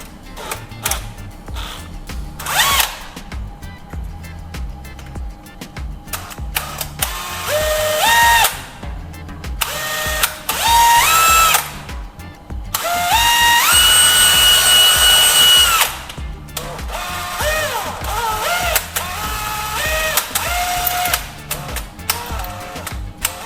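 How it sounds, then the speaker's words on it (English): An electric drill fitted with a larger bit bores into the plastic shell of an empty lighter, whirring in repeated short bursts that rise in pitch, with scraping and handling clatter between runs, close up. "I think I'll switch to a larger drill bit to get the size we need."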